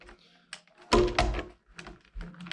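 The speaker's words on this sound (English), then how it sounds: "first pop open the doors of the Camaro" Plastic doors of a Transformers ROTF Battle Ops Bumblebee Camaro toy being popped open, a few close, sharp clicks and thunks with a louder snap near the middle, quiet between.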